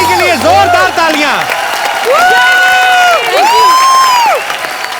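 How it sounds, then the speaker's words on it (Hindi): A television comedy show studio audience bursts into loud, sustained applause and cheering for a singer after her song, a dense crowd roar with shouts and bright tonal voices rising above the clapping. "जैमी के लिए जोरदार तालियां।"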